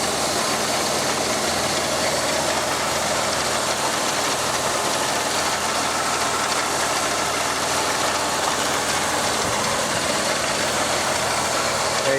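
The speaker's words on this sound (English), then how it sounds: "Here is your 3800 supercharged engine, producing around 225 horsepower" A supercharged 3800 V6 in a 1994 Pontiac Bonneville SSEI idles steadily and close by, a continuous broadband engine hum running without a break and with no voices.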